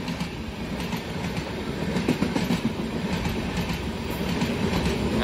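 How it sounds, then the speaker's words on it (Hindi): The Hemkund Express running from Katra toward Rishikesh past a railway crossing, a loud steady rumble of wheels on track with a faint clickety-clack rhythm that builds slightly. "देख लीजिए एक और खूबसूरत सी क्रॉसिंग भैया"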